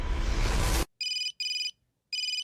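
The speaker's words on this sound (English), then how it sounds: "Suddenly, the phone rang." A telephone ringtone chirps three times in short electronic bursts after a loud noisy passage cuts off, each ring bright and clean against silence.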